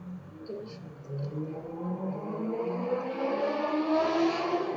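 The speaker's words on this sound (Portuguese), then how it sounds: "Desculpa pelo barulho de moto." A motorcycle engine revs and whines nearby, its pitch climbing steadily as it grows louder while accelerating.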